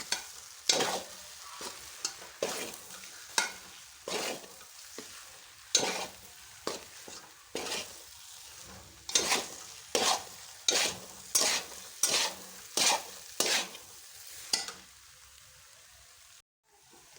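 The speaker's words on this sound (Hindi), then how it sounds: "इसी तरह से जो हम जल्दी जल्दी से इसे हिलाते रहेंगे।" Makhani halwa is stirred quickly in a pan, with a loud, regular series of scraping strokes about once a second over a low sizzle, nearby and without talk.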